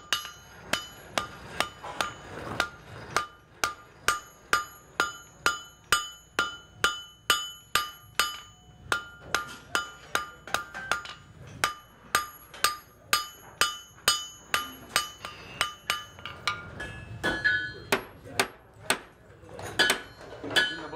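Hot iron is shaped on a blacksmith's anvil at a historic farm demonstration, with loud, ringing hammer strikes repeating in a steady rhythm, each with a bright metallic clang and brief decay, close by.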